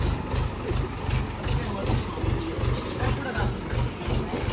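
A tractor engine idles nearby with a low, steady, pulsing throb that repeats in regular beats, and voices talk faintly over it.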